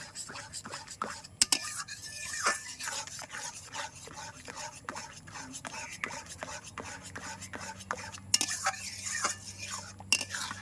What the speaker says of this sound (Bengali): সিদ্ধ আমটা তখন কিন্তু খুব ঘন ঘন করেই নাড়তে হবে